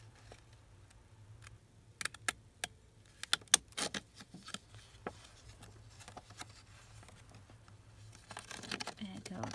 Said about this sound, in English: we can make it look like a postage stamp with our postage stamp scissors here